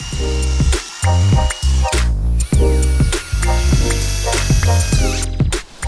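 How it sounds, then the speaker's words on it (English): A drill whirs in repeated short bursts, stopping and starting, drilling pocket holes with a Kreg jig, with ratcheting mechanical clicks and gear noise between runs, loud and close. "I am still not very good at using this Craig jig to drill pocket holes"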